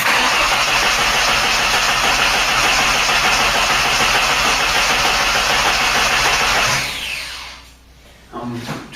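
A Ford Cortina Mk3 engine cranks and catches, then runs steadily at a loud, close idle with a dense broadband roar before dropping away and briefly revving again near the end.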